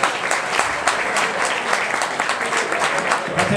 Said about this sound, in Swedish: Han kan väl få en applåd.